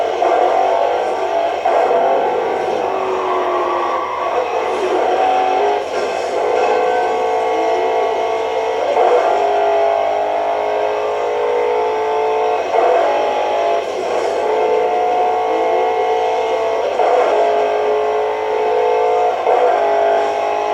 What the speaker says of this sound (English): So the engine sound is actually, it sounds like a muscle car and supercar.